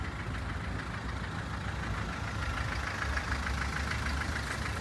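A 2006 Renault Kangoo engine idles steadily with an even, continuous mechanical hum and faint rhythmic ticking, close and unchanging throughout, no voices.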